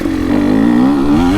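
A 2023 KTM 300XC TBI two-stroke dirt bike engine revs steadily on a throttle roll-on on an Erzberg woods loop. The raspy, buzzing note is loud and close, climbing slightly in pitch across the short burst, with no talking.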